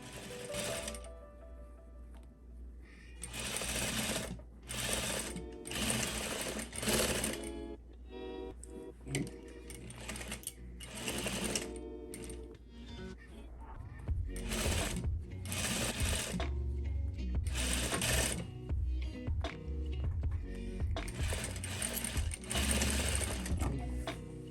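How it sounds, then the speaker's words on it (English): A sewing machine runs in repeated bursts while stitching ruffle seams on a dress, its rapid mechanical chatter starting and stopping with brief pauses between runs, close and clear. "Then sew the second ruffle to the front and the back and serge the seam."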